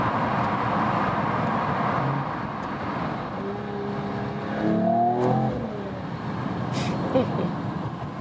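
A Mercedes-AMG E53 estate drives through a tunnel, its engine note swelling in a brief rev amid steady road and cabin rumble, with a voice speaking over it.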